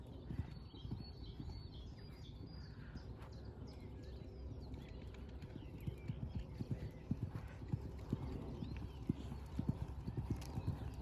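A horse's hooves clip-clop in a steady rhythmic canter during a jump-riding lesson, close and clear, with occasional snorts and faint birdsong in the background.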